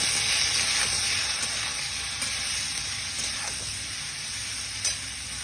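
Vegetables with green chilli, salt and spices are sautéed in a pan, giving a steady, hissing sizzle with a few light stirring clicks.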